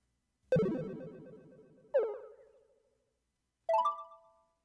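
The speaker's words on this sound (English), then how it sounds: "Was that a Twipo notification sound?" A Twipo notification chime from the game Robotics;Notes Elite sounds three times, each a bright electronic ringtone-like tone that rings out and decays, heard alone against silence.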